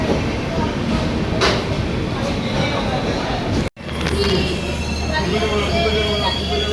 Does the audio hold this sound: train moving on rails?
yes